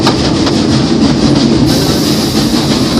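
A ride train rolls steadily along the rails, a loud continuous rumble with faint rhythmic clacking of the wheels, heard from on board.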